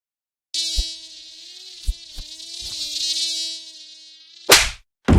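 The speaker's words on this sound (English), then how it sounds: "repel and kill the bugs that bug you most" Mosquitoes and other small bugs give a close, steady high-pitched whine that holds for several seconds. A few soft thumps interrupt it, and two louder bursts of noise come near the end.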